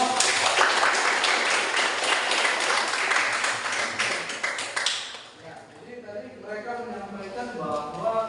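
Pupils in a classroom clap together in a dense burst for about five seconds, then the clapping cuts off and quieter room sound with faint voices follows.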